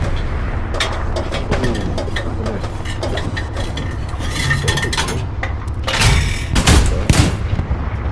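Tank gunfire and battle noise in the Hell Let Loose video game at night: a dense mix of rapid shots and heavy booms over a rumbling engine, with louder blasts toward the end.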